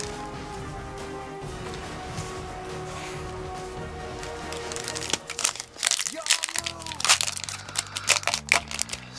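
Up close, a foil Yu-Gi-Oh Maximum Gold card pack wrapper crinkles and tears open in bursts of crackling. A voice talks over the first half.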